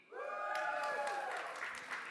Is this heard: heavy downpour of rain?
no